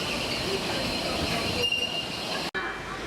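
A Washington DC metro train rolling along, giving a loud, steady rumbling hiss from inside the car with a thin high wheel squeal, then a brief cutout followed by a quieter interior.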